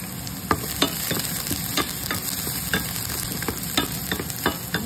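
Garlic sizzles in oil in a pan while cooking ginataang pinakbet, a steady close frying hiss broken by regular scrapes and knocks of a stirring utensil, with no talk.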